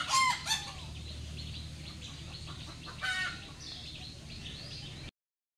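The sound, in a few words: chickens and ducks clucking near drying paddy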